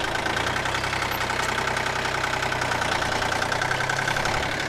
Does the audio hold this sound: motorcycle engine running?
yes